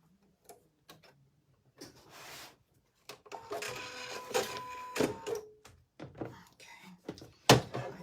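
Embroidery machine stitching an in-the-hoop quilted heart oven mitt, its needle tapping in irregular clicks and short runs, with a brief steady hum in the middle, heard close and fairly quiet.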